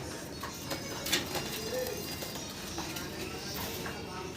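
A pair of King pigeons coo softly in a loft or pen, a low steady murmur of cooing over background room noise with faint clatter.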